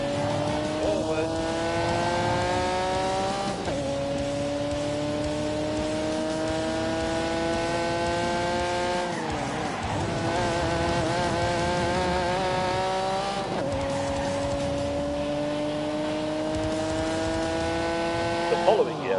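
A Porsche Le Mans race car engine at full throttle, a loud nasal howl rising through the gears with sharp drops at each of several upshifts, close and continuous, with someone talking over it.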